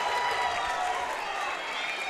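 A high school boys basketball crowd reacting after a blocked shot, with a broad roar of cheering and clapping that stays steady and fairly loud while a commentator talks over it.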